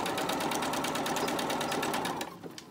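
Up close, a sewing machine stitches a cloth face mask in a fast, even run of needle strokes that stops abruptly near the end, with no talk over it.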